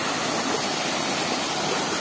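Waterfall pouring into a natural stone-walled bathing pool in the sertão, a dense steady roar of falling water, close and unbroken, with no voices.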